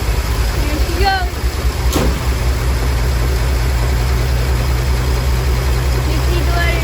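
A Willys truck with a 226 engine idles steadily after starting, a deep continuous low rumble that stays close and constant, with brief faint noises early on.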